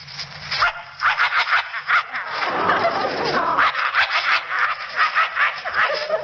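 A voice imitates a vicious dog, making snarling growls and harsh barks that run in rapid bursts and rise into a sustained rough snarl, close and fairly loud, as part of a radio studio demonstration.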